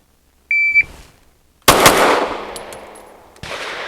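Gunshots in a shooting drill: a timer beep, then a single sharp, loud nearby report with a ringing decay, and a second shot cut off at the end, with no talk.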